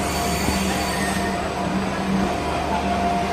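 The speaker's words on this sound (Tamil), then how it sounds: "விஜயபூர் மங்களூர் ரயில்வே வந்து ஒன்று வந்துட்டு இருக்கு உள்ள." A Vijayapura–Mangaluru train rolls into a station platform with a continuous close rumble of wheels and faint squealing, steady and loud throughout until it cuts off.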